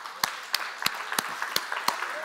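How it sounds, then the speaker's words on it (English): Scattered audience applause at an evening athletic challenge event, a thin patter of clapping punctuated by a few sharp, regularly spaced claps, fairly faint and brief. "Round of applause for Dez"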